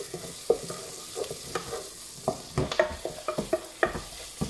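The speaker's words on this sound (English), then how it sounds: "we're stirring this." Garlic, onion and tomato being stirred in a frying pan: a steady background sizzle broken by repeated scraping and clacking strokes of the spoon against the pan, close and moderately loud, with no talking.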